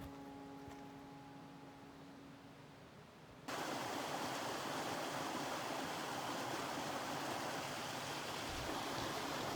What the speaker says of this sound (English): The small waterfalls are best admired when the Weißenbach Creek carries enough water